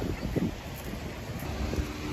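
Strong wind blowing on a beach while a kite is flown, a steady loud rush of microphone-buffeting gusts that fills the whole clip, with no voices over it.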